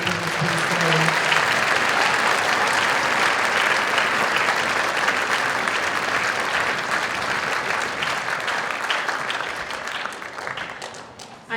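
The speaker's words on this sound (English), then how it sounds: "One more round of applause for our solo and ensemble members today." A school band concert audience applauds solo and ensemble performers, loud sustained clapping filling the hall for about ten seconds before fading toward the end.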